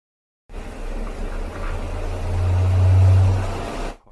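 A small DC motor driven by PWM speed control hums steadily and alone, a low tonal drone that swells louder midway, as if the duty cycle rises, before cutting off.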